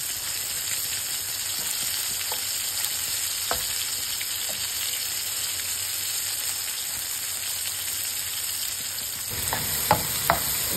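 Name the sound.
small onion frying in fish oil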